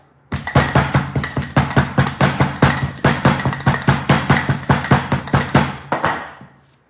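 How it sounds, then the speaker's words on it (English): A rolling pin taps tart dough repeatedly in a fast, even rhythm of about two dozen close, firm knocks, then stops; no voice. "Yes, I'm tapping. I don't start rolling right away."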